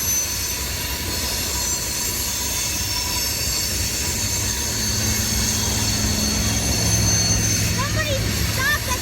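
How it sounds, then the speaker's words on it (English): CSX freight train braking, long metallic screeches and squealing wheels over a rumbling rolling mass, steady and fairly distant, with sharp chirping squeals rising near the end and people talking faintly in the background. "That's an awful lot of braking."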